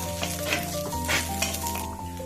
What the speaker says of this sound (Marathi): तर बघा इथं तीन ते चार मिनटं छान अशी घेवड्याची शेंग आहे ती भाजून घेतलेली आहे